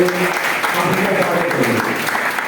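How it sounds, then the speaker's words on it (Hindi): An audience claps steadily and loudly throughout at a language conference hall event in Prayagraj, with a voice speaking faintly underneath the applause. "एक बार जोरदार तालियां बजा करके"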